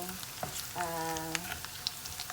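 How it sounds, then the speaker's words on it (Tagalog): Dried anchovies (dilis) fry in a pan with a soft, continuous crackling sizzle and scattered pops, close and fairly quiet, broken by a short tonal clink or scrape of a utensil. "prito lang natin yung dilis"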